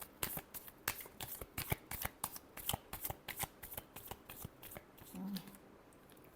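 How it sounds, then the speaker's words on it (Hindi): Tarot cards being shuffled by hand, a quick series of crisp riffling flicks, close and quiet, with a brief murmur near the end. "Last shuffle."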